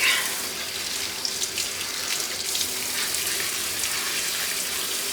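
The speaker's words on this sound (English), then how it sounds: "I'm just going to kind of let the water run while I finish scrubbing this out" Water runs from a kitchen sink tap in a steady, hissing stream splashing into the basin, close and constant throughout, with no talking.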